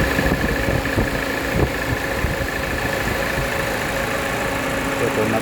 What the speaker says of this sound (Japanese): エンジンはこんな感じで普通だと思いますね。